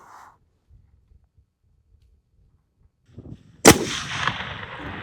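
A long-range rifle fires at a cupcake target during a birthday shooting challenge, one sharp loud report after quiet outdoor shuffling, followed by a rolling echo that trails off.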